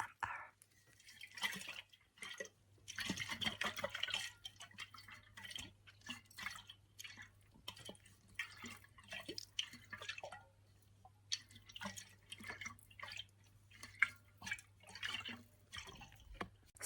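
Tea is poured into a cup, with soft, close trickles and drips of liquid arriving in uneven bursts under quiet, intimate whispering.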